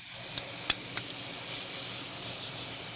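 Ribeye steak sizzles in a hot pan after being flipped, a close, steady hissing fry with a couple of faint clicks and a single sharp tap of utensil on pan.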